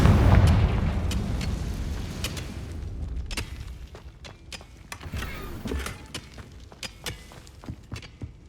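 A Confringo fire spell bursts in Hogwarts Legacy with a loud booming explosion up front that fades into scattered crackling pops and debris-like clicks.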